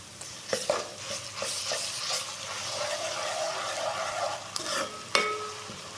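Curry leaves and ginger paste fry with onions in a pan, giving a steady close sizzle with occasional spoon stirring and scraping clicks throughout.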